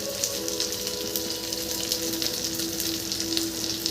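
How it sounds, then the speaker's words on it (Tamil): Steady bubbling and light sizzling of a pot of fish curry simmering on the stove, continuous and moderately loud, with a faint tonal hum underneath. "குழம்பு இந்த பக்கம் கொதிச்சுட்டு இருக்கு."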